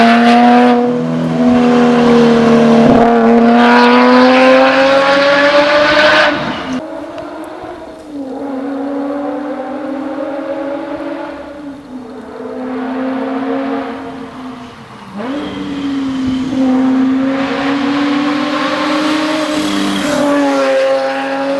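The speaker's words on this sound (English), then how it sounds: "it's got 300 horsepower and it's reliable and it sounds like a GT3 RS" A turbocharged Subaru EZ30 flat-six in a Porsche revs hard and loud, climbing in pitch in repeated pulls, easing off and rising again over about twenty seconds, with no talking.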